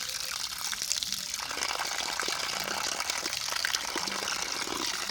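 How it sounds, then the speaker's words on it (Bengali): Running water splashes and gushes steadily while pieces of rui fish are rinsed and rubbed by hand, a close, continuous wash with faint clatter and a voice now and then underneath. "তো প্রথমে মাছগুলো ভালো করে ধুয়ে নিচ্ছি।"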